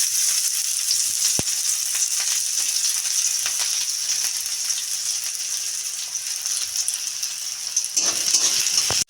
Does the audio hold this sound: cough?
no